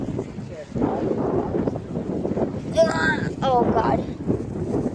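Wind gusts buffet the microphone outdoors, a rough rumbling roar that runs continuously underneath, while a person speaks briefly over it.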